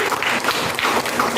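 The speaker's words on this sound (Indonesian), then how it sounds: "tepuk tangan dulu untuk Erna." Brief burst of applause from a university microteaching class, steady clapping throughout with no voices.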